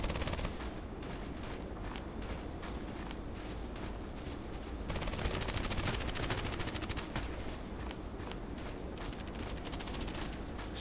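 A small handgun fires in Contract Wars amid steady rapid gunfire, with dense repeated shots and clatter running continuously throughout, moderately loud with no pauses.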